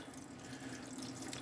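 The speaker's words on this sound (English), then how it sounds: "Your pump will start running and you'll be able to run water through the caravan." Water running from a caravan tap fed by an electric water pump: a steady, even hiss and splash of flowing water, fairly quiet and continuous with no breaks or voices.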